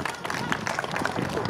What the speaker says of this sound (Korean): 박수가 필요합니다 여러분.